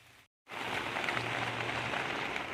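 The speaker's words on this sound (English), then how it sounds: "I love the sound of a nice evening rain overlooking the garden." Steady, soft hiss of evening rain falling on a garden outdoors, continuous and even after a brief silent gap at the start.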